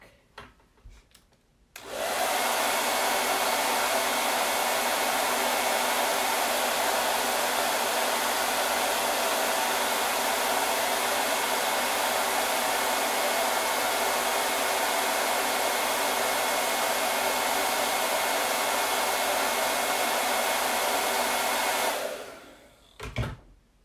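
A hair dryer blows steadily at close range for about twenty seconds, loud and unbroken broadband whoosh, switched on abruptly near the start and cut off just before the end, with no talking over it.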